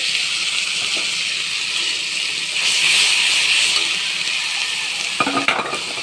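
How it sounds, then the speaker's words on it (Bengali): Onion, garlic and green chili paste frying in a pan, a dense steady hiss and sizzle with occasional soft stirring scrapes and a brief clatter near the end, loud and close. "পেঁয়াজ রসুন আর কাঁচা লঙ্কাও একসাথে পেস্ট করে নিচ্ছি ভেজে নেব"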